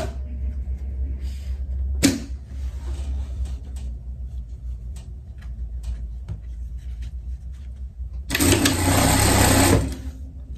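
An electric sewing machine stitches a seam on a pet costume, running in one loud, brief burst near the end over a low steady hum, with a sharp click earlier.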